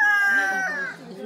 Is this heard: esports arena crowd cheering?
no